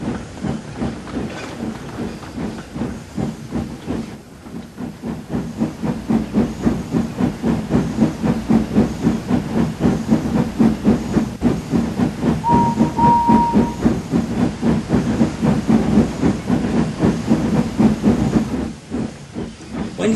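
A steam engine named Duck hauls full trucks out of a railway yard, a steady chuffing and hissing rhythm with clanking wagons that builds and carries on close by, with a brief whistle-like tone partway through.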